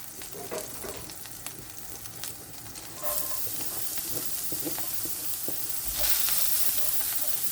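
Shallots frying in oil in a pan give a continuous close sizzle that grows louder in steps as the cooking goes on, with occasional clatter from stirring and no talk.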